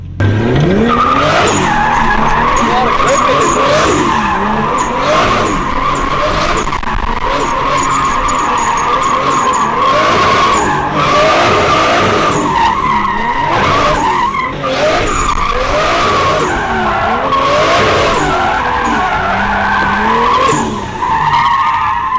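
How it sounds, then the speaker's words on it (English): Tires squeal and skid continuously over a revving car engine as it drifts slowly, the pitch rising and falling in repeated sweeps, loud and close for the whole stretch. "I know we're drifting really slow"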